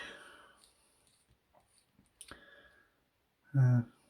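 Small metal-and-plastic lens attachment from an Apexel APL-DG10 cellphone lens kit being unscrewed, with faint scattered clicks and light thread scrapes close by, then a brief louder rub near the end.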